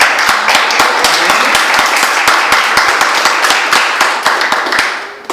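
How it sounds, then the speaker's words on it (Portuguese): A church congregation applauds during a worship service, dense loud clapping with sharp individual hand claps standing out in a fast, fairly regular rhythm, tapering slightly toward the end. "Você pode aplaudir a Deus por isso?"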